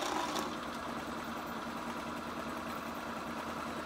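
Sewing machine running a steady, continuous stitch through dress fabric for a tulip-style dress, a close, even mechanical whir with fine rapid rhythm and no talk.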